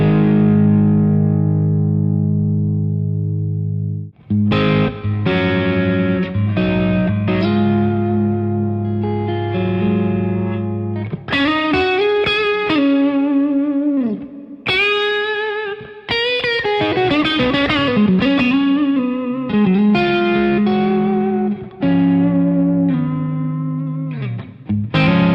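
Distorted electric guitar runs through a Headrush pedalboard with a graphic EQ, playing sustained chords and then bending lead lines with echo and reverb, loud and close, with no talking.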